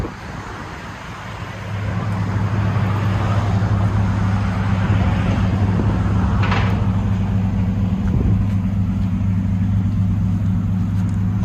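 A 2015 GMC Sierra All Terrain Z71 with a 5.3L V8 and Carven R-Series dual exhaust with 5-inch tips starts up into a deep, steady idle, a loud low burble droning on close by.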